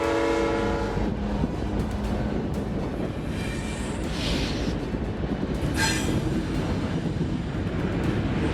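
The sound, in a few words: train transporting aircraft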